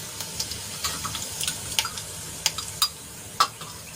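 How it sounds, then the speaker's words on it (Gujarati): Cumin seeds sizzle and pop in hot oil in a pan, a light, crackly frying hiss broken by sharp little clicks and spatters, fairly close and with no talking. "તેલ ગરમ થાય એટલે એમાં આપણે અડધી ચમચી જેટલું જીરું એડ કરીશું"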